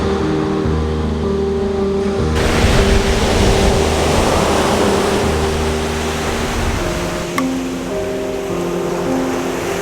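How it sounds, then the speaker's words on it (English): Sea waves breaking on a beach at the foot of a cliff make a loud, continuous broadband wash that swells slightly midway, with a low steady hum running underneath. "I'm down on the beach at the end of that cliff area"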